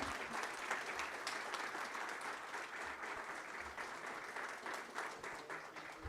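Audience at a tax reform forum applauding to welcome an economist speaker, a steady dense clapping from a crowd, moderately distant, lasting the whole stretch without talk.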